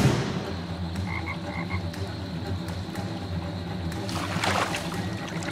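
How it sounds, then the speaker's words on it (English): A frog in a Florida swamp gives a run of short, repeated croaks early on, clear over soft water ambience, followed later by a brief splash and trickle nearby. "A frog tries to escape."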